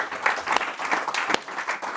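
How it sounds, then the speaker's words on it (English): An audience applauds speaker Chris at a talk on protecting legacy and handing on wealth, a steady wash of moderate clapping lasting throughout with one sharper clap near the end. "Give Chris a round of applause."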